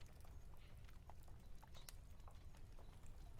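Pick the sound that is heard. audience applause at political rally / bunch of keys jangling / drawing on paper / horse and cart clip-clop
horse and cart clip-clop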